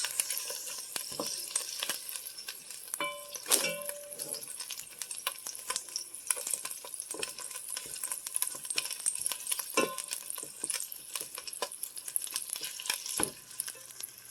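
Ground beef fries in a Dutch oven while a utensil breaks it apart, giving a constant soft sizzle broken by frequent scraping, tapping and clinking of the spoon against the heavy pot.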